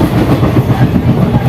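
The inside of a moving passenger train carriage on a Kolkata to Tarapith journey. A loud, steady rolling rumble carries a rhythmic clickety-clack of wheels throughout, close and enveloping, with no voices.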